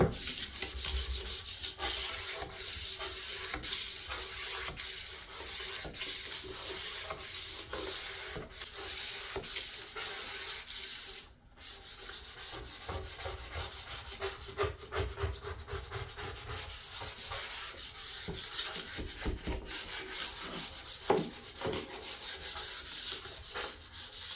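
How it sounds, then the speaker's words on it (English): Steady rhythmic rubbing and scraping of a scraper working grease and dirt off a surface in a neglected house, close and continuous strokes with a brief pause midway, no voices. "I scraped and scrubbed all the dirt"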